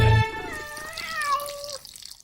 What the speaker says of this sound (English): You got a lot of cats.